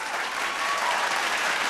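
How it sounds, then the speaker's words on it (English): A large television studio audience applauds steadily at a vocal battle show, a dense, even wash of clapping that holds at full strength throughout without any voices on top. "Another round of applause for Mix Steve, Polly"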